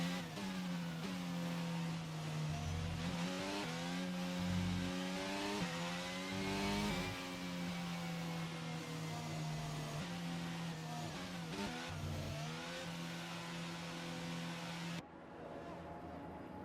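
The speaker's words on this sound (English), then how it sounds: "as the cars take their positions on the grid" Formula 1 race cars idle and rev in the F1 22 video game on the Singapore Grand Prix grid, a dense, continuous engine drone with rising and falling pitch throughout.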